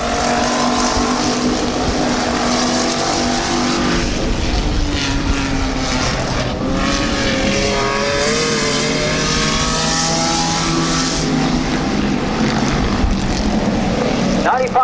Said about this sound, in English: Oliver coming on strong as Tad Grove races him down the backstretch from behind